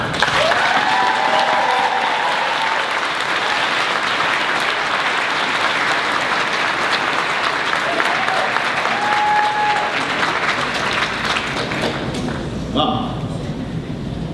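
An audience at a graduation ceremony applauds to welcome a keynote speaker, a steady wash of clapping lasting over ten seconds with a few voices calling out before it tapers.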